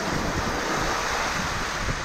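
Wind gusts from a squall behind a sailboat at sea in the South Pacific off New Zealand, a loud continuous roar of wind buffeting the microphone over the wash of waves, with no voices.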